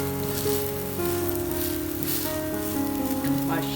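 An aloo paratha sizzles and fries steadily on a hot griddle with its second side down, a continuous crackling hiss over a faint background of music or tones.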